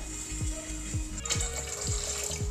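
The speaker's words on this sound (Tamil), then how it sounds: "இதோட நான் அஞ்சு கப்பு தண்ணி ஊற்றிருக்கேன்" Water poured from a cup into a heavy-bottomed pot for pearl millet porridge, a steady close splashing stream with a few soft clinks of the vessel, no talking.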